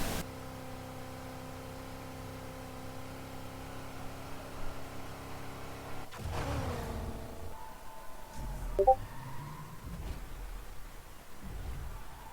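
In the racing video game NFS Heat, a Ford Mustang pony car's engine drones at a steady pitch, then cuts away abruptly to quieter, sparse engine sounds and low rumbling, all faint and without speech.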